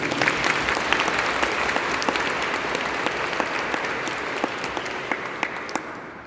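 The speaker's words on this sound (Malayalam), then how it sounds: "എല്ലാവരും അച്ഛന് കൈയടിച്ച് ഒന്ന് സ്വാഗതം ചെയ്യും" A congregation at a Malayalam church gathering in Rome bursts into loud, sustained applause to welcome Father Joseph after Holy Mass, with dense, continuous clapping close by and fading slightly at the end.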